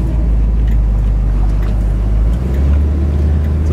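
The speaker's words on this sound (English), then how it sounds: "we'll let you hear the Motorcraft 4-barrel" Steady low idle rumble of a 1969 Mustang Mach 1 V8 breathing through a Motorcraft 4-barrel carburetor, loud and close with a continuous deep drone that shifts slightly in pitch near the end, no talking.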